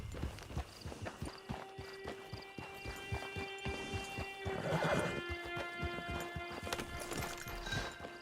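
Horse in the Red Dead Redemption 2 video game, steady clip-clopping hooves at a walking pace with a clear whinny partway through, set against a faint hum and no talk.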